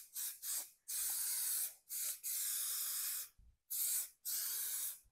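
An aerosol accelerator is sprayed onto the border of an MDF hat rack, six or seven close, loud bursts of hissing spray separated by brief pauses.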